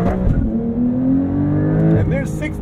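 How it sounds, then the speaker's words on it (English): A Porsche 911 Sport Classic with a manual gearbox launches hard, its flat-six engine rising in pitch with strong, close, loud acceleration; a voice speaks over the engine roar. "there is launch control even with the manual gearbox by holding in the clutch, pinning the throttle, and then sidestepping the clutch"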